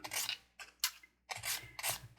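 Sandpaper of 320 grit rubbing against a resin jar as it is turned by hand, giving four separate dry rasping strokes, close and fairly faint, with short pauses between them and no voices.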